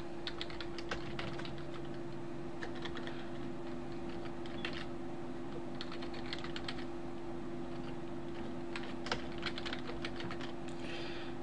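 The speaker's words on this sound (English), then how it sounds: "so we're going to type that in there." Steady keyboard typing on a computer, a rapid run of light clicks in irregular bursts over a constant low hum, close and moderately quiet.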